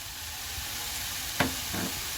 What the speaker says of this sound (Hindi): ऑयल सेपरेट हो चुका है, इसमें बॉयल किए हुए चने डालेंगे, मैश किए हुए आलू